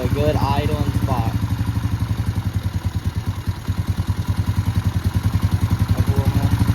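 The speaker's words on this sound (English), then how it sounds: "That should sound like idling pretty good." A Honda Rancher 350 ATV engine idles steadily after a carburetor adjustment, its rapid even putter close and continuous, with a brief faint voice early on.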